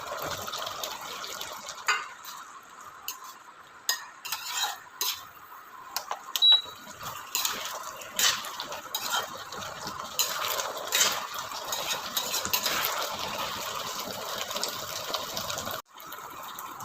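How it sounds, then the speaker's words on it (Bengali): Fried mushrooms go one by one into simmering gravy in a pan for chilli mushroom, bringing a steady run of soft clinks, scrapes and sizzle-like hiss with scattered spoon taps, alone and fairly close. "এবার ভেজে রাখা মাশরুমগুলোকে একে একে দিয়ে দিতে হবে।"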